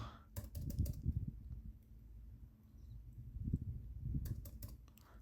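Keys clatter on a computer keyboard while HTML code is typed, coming in quick bursts of clicks at the start and again near the end with a softer hum between them.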